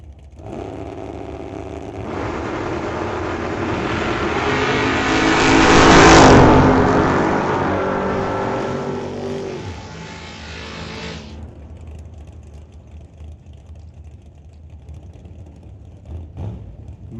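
A 67 Chevy II and a 70 Duster drag racing, with loud engines roaring down the strip, swelling to a peak as they pass, then fading into distant rumble.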